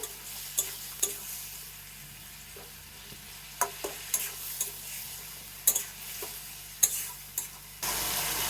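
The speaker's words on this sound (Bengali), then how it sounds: "একটু ভালো করে নাড়াচাড়া করে নেব" Spice paste fries in a pan for a fish curry while a spatula stirs it, giving a soft constant sizzle punctuated by sharp scraping and tapping strokes at irregular intervals, close up and without talk.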